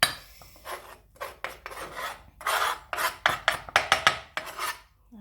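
A utensil scrapes chopped chocolate from a board into a bowl in a home kitchen, a run of short close rasping strokes that speed into quick repeated scrapes, with no talking.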